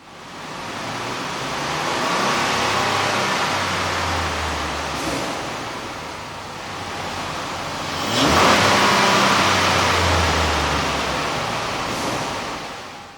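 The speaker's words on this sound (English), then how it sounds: "we ran the vehicle on the dyno to test the sound comparison versus the stock intake" A Dodge Nitro's 4.0L engine fitted with an aftermarket air intake runs on a dyno, producing a loud, steady roar that swells into two rising revs, each building and then easing off.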